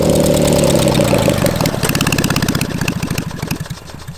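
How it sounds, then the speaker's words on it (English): A 450cc twin-cylinder engine fitted to a push lawn mower runs loud and close, a steady buzzing idle that breaks into a rapid pulsing throb and gradually fades, with no voices. "That's the coolest push mower I've ever seen."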